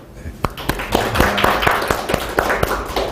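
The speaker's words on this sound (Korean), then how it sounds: "우리 박희진 전사님에게도 한번 감사의 박수를" Worshippers at a closing chapel service clap in thanks for Park Hee-jin. Scattered, distinct claps sound close by and irregular, building into a brief patter, with some talk mixed in.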